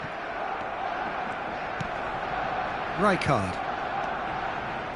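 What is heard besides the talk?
stadium crowd in eFootball video game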